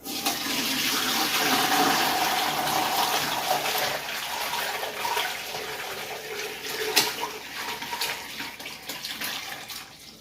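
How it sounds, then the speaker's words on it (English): Vegetable broth being strained to remove the vegetables, a steady close rush of pouring liquid that splashes and gurgles, loudest early and then easing off, with a sharp clatter near the end. "now I'm going to very carefully strain this liquid off to get all that extra vegetables out"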